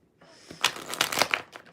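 Tarot cards being shuffled by hand, a soft papery riffle of crisp crinkling bursts that builds over about a second, close and fairly quiet with no talk.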